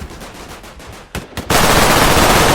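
Rapid automatic gunfire from a first-person shooter video game, a few scattered shots building into a loud, continuous sustained burst with no talking.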